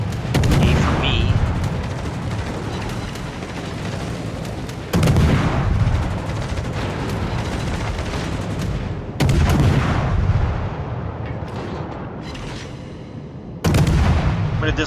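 Naval artillery firing in World of Warships with the destroyer Hayate: four heavy booming salvos spaced several seconds apart, each followed by a long rumbling roar, with a voice speaking under the loud background.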